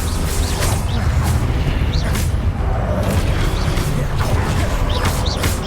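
Confringo blast spell explosions in Hogwarts Legacy, heard as a dense, loud stretch of booming impacts and crashing game effects that run continuously with no pauses.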